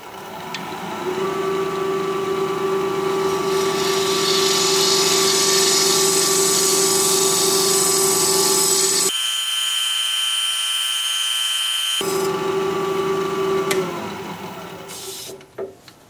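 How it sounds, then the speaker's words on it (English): A loud, steady whirring drone of a wood lathe spinning at 1300 RPM, a half-inch bowl gouge turning a bowl, with a tonal whine that drops out briefly, then resumes, ending with a few scraping knocks. "I'm going to have the lathe spinning at 1300 RPM, half inch bowl gouge"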